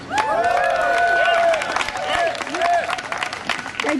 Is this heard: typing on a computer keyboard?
no